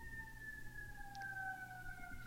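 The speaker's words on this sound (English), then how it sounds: "You hear the sirens in the back?" A pair of sirens wails steadily in the distance, two sustained tones sliding slowly downward over a low rumble of traffic.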